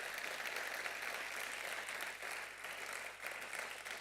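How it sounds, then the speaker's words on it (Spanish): Steady, distant applause from an audience at an energy award ceremony, an even roar of clapping that continues throughout without a break, with a low hum underneath. "Ese forte aplauso"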